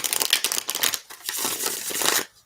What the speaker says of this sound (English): Okay, one more shuffle and we're good.